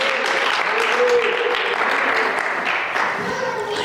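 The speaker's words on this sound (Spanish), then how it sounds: "¿Cuánto le da un fuerte aplauso a Cristo?" A church congregation breaks into sustained applause at a Spanish-language service, dense clapping filling the room throughout with voices faintly mixed in.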